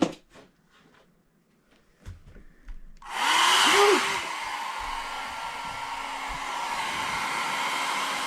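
Hair dryer switched on to dry a watercolor painting: a steady, close whooshing roar starting abruptly after a few quiet clicks and faint handling sounds, then running continuously to the end.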